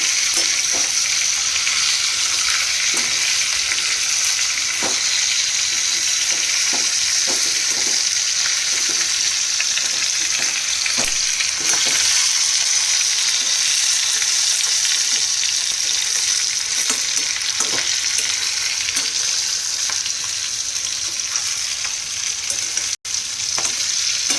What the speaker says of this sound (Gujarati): ઉપર નીચે કરી બધા મરચાંને તેલમાં શેકી લઈશું।